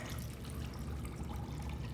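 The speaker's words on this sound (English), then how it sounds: "to your 3 cups of sugar, you're gonna add 3 cups of water." Water is poured onto three cups of sugar in a pot to make syrup for homemade popsicles, a steady close trickling splash lasting throughout with no talking.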